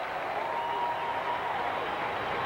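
More than 40,000 fans at a Rangers–Yankees baseball game stand and cheer, a broad, distant, steady wash of crowd noise with applause, heard at a moderate level.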